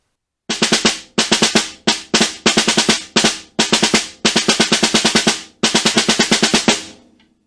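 Snare drum playing line 6 of Portraits in Rhythm Etude 10, loud crisp strokes in bursts of fast triplet-feel groupings separated by short gaps, close and dry.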